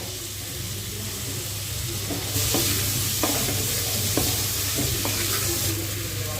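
Softened tomato masala with onion, ginger and garlic stirred and chopped with a metal spatula in a hot pan, steady sizzle under repeated light scraping taps, close and continuous.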